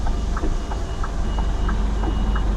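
Scania G490 truck reversing with its backup alarm beeping at a steady, regular pace, heard close over a loud, low, constant engine rumble.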